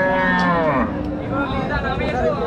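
A buffalo at a crowded buffalo market moos loudly and close by in one long, drawn-out call, with faint chatter in the background.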